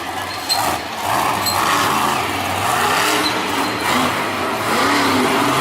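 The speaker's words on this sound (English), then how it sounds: "He's coming out here spinning those BKT Ram tires." The Raminator Ram monster truck spins its BKT tires during a Monster Jam run in Nashville in 2019, producing a loud, sustained engine roar and rumble that continues through the whole stretch with a steady, heavy drone.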